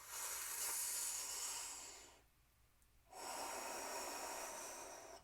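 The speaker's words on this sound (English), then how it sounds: "Nice big breaths." Deep, steady breathing during a guided team meditation, airy inhales and exhales close to the ear with a brief quiet pause in the middle, no talking.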